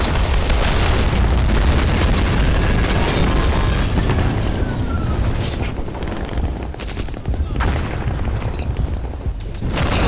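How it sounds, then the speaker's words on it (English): In a World War II tank battle video game, an artillery barrage pounds tanks with loud, dense booms and rumbling explosions that overlap continuously, dipping slightly midway before building again, with no talk. "The artillery's barraging the tanks."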